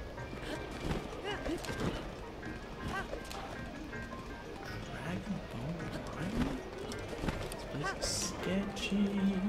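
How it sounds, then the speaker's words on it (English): Horse hooves clip-clop at a steady galloping rhythm in The Legend of Zelda: Breath of the Wild, close and continuous, with game music and effects layered around it. "I have no control over this horse."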